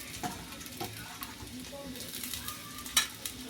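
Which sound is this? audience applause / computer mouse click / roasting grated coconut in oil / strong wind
roasting grated coconut in oil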